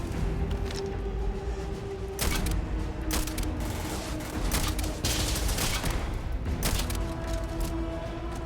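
Gunfire in the Starfield video game, a dense run of rapid shots and mechanical clatter, steady and moderately loud with bursts of sharper cracks.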